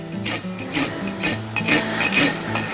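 Rasping file strokes on the clinched horseshoe nail ends of a horse's front hoof, evening them to the same length; about five steady back-and-forth strokes, close and fairly loud, with no talk.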